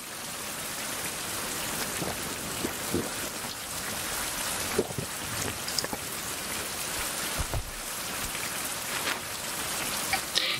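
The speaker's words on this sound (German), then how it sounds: "Regenwasser, Regenwasser," Rain falling in the survival game Survival: Fountain of Youth, a steady patter of drops on surfaces with scattered louder splashes and faint low rumbles, continuous and without speech.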